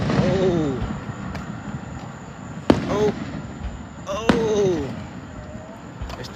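Fourth of July fireworks burst in the distance, with two sharp cracks standing out over a steady crowd murmur and a voice talking throughout.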